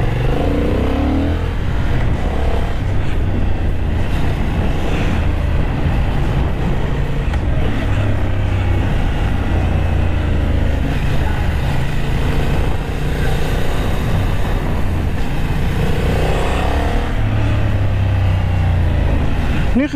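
Honda CB750 Hornet motorcycle with a 755 cc engine ridden around a Ramkhamhaeng track, its steady loud engine drone holding throughout with low harmonic bands shifting as revs rise and fall.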